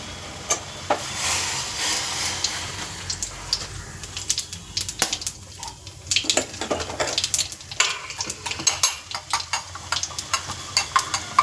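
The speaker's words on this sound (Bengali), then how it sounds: "ওই তেলে প্রথমে আমায় বেশ কিছুটা কালা জিরে ফোড়ন দিতে হবে" Nigella seeds (kalonji) tempering in hot oil left from frying a fish head, a crackling sizzle with bursts of popping and intermittent scraping of a utensil against the pan.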